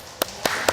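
Three sharp, separate hand claps spaced about a quarter second apart, close and fairly quiet, at a youth Mass in a parish church.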